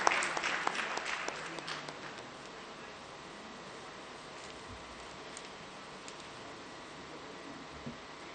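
An audience in a Karachi auditorium applauds at a Police Shohda Day event; the clapping is brief and moderate at the start, then fades into quiet room tone.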